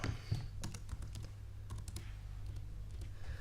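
Keystrokes on a computer keyboard while working in Cinema 4D, a quick run of sharp clicks in uneven bursts over a steady low hum, close and moderately loud.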